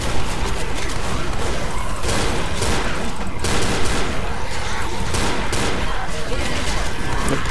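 Continuous gunfire from the zombie shooter Left 4 Dead, with dense, loud bursts of shots layered over one another and heavy booms at intervals, a steady clatter of combat that barely lets up.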